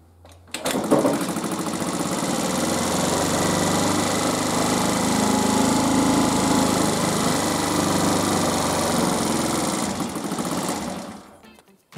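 A Benzhou 50 retro four-stroke Chinese scooter engine idles roughly, with a steady close buzzing drone that starts after a second and runs for about ten seconds before cutting off.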